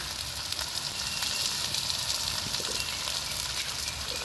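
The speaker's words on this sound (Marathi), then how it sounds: "सर्वात आधी मी कांदा घालते यात तेल खूप तापलेलं म्हणून अगोदरच कांदा ॲड केला आहे आता हिंग घालूया" Onion and asafoetida sizzling in very hot oil in a wok, a dense, steady crackling hiss held close and even throughout, with no talking.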